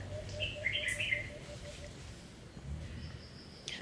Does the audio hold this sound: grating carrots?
no